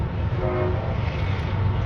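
A train passing very close, with a loud, continuous, heavy rumble that fills the sound and a steady tonal horn-like note rising within it.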